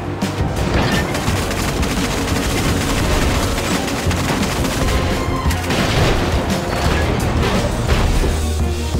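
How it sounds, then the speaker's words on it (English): Gemini cannons pounding away in the video game Agent Intercept, a loud, unbroken barrage of rapid heavy shots and crashing impacts that keeps going for the whole stretch with no letup. "I've deployed Gemini cannons."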